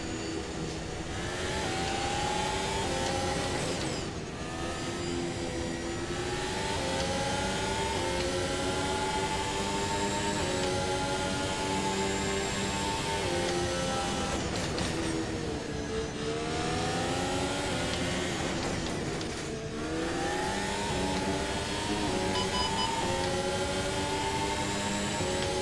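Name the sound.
race car engine revving in the video game Automobilista 2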